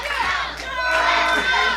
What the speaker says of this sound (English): They're chanting, "Let's go, Joe."